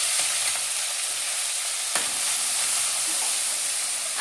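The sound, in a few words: cumin and asafoetida sizzling in oil with popping mustard seeds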